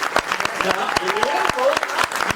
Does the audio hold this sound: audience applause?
yes